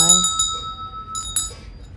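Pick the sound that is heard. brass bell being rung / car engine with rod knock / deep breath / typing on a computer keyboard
brass bell being rung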